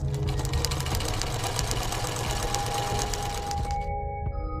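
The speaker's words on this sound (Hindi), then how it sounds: "सिलाई मशीन पर सिलाई का काम करने" A sewing machine stitches at a fast, steady rate, a close rattling clatter that runs without a break and then stops abruptly near the end.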